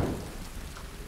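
Heavy rainstorm in Tomb Raider, a dense steady hiss of falling rain with a low rumble underneath, continuous and enveloping for about a second.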